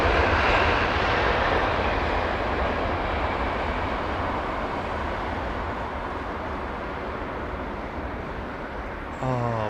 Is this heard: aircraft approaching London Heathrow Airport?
yes